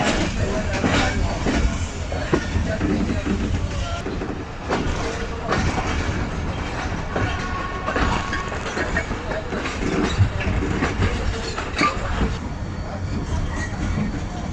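Shalimar Express passenger train running between Karachi and Lahore, a continuous rumbling roll with rhythmic clickety-clack of wheels over rail joints, heard close from on board, with faint voices under the noise.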